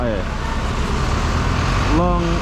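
Singapore city bus number 70 with a steady engine and road rumble throughout, brief tonal whines rising at the start and near the end as it pulls away, and a voice speaking over the drone.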